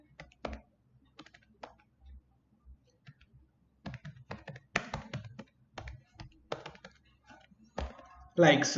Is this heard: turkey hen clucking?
no